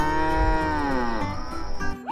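A cow lets out one long, loud, close moo with a rich droning tone that slides downward, then ends in a brief rougher tail, with nobody talking.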